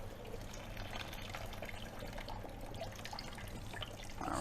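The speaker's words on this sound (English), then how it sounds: "Alright, so now we're just going to pour the hot water out." Hot water poured out of a pot of boiled potatoes, a steady close splashing and gurgling flow that swells slightly louder toward the end, with no talking.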